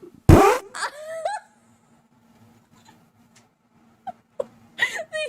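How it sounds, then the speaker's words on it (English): A loud, wet fart sound effect bursts out at the start, followed by a wavering, moan-like tail and a few short squeaky sputters later on, with sparse voice-like sounds between. "Savannah, that was a beautiful fart that you just let out of your butt"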